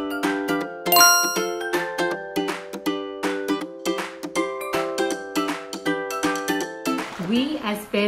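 Bright bell-like dings ring out in a quick repeating pattern, a chiming notification-style effect with layered tinkling tones that sustain steadily and clearly.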